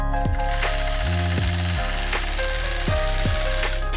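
Long-arm quilting machine stitching a woven border along a ruler, a steady mechanical hum with a fast ratcheting needle rhythm that rises and falls in pitch as the machine glides and pauses, close and continuous, with no talking.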